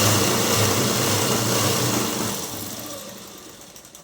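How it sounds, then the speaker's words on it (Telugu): A sewing machine stitching saree fabric along a marked line, a continuous close motor whir that slows and fades after about two and a half seconds. "ఎక్కడైతే మనము మార్కింగ్ వేసుకున్నామో ఆ మార్కింగ్ దగ్గర నుంచి ఇలా అనేది కుట్టుకుంటూ వచ్చేసి తిప్పేసుకోవాలి."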